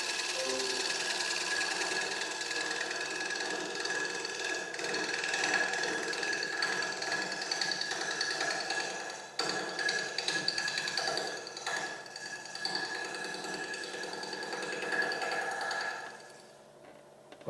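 Wooden platter spinning on a lathe as a turning chisel is pulled across the face, giving a steady, close scraping and whirring cut that holds continuously and then drops off near the end.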